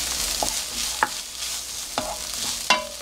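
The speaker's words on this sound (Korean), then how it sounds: "불을 조금 세게 해서 볶겠습니다." Kimchi and rice stir-fried in a pan over raised heat, a steady sizzle broken by several distinct scraping and clattering stirs of the spatula, close and fairly loud.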